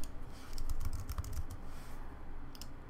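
Quick, close clatter of keystrokes on a computer keyboard, a steady burst of typing that thins out toward the end, with no voices.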